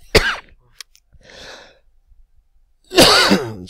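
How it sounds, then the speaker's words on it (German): A coughing fit while playing Minecraft: a sharp, loud cough bursts out close up, a rougher, fainter wheeze follows, then another forceful cough hits near the end, with quiet gaps between. "jetzt habe ich voll den Hustenanfall gekriegt"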